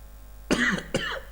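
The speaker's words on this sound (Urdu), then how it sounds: "I'm having cough, so sorry for this." A person with a cough gives two close, harsh coughs in quick succession, loud and near, with a quiet room before and between them.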